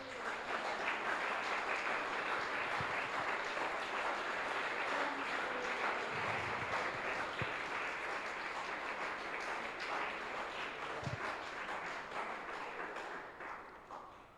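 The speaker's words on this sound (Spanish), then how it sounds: "Un aplauso para Él, hermano." A church congregation applauds steadily for about fourteen seconds, dense and fairly loud clapping that holds constant before tapering slightly at the end, with a few soft thumps mixed in.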